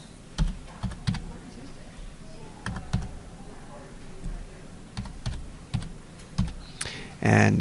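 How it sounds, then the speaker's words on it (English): A student ID number is typed on a computer keyboard as a string of distinct key clicks at an irregular pace, close and clear, with a louder rustle at the end. "So type in your student ID number."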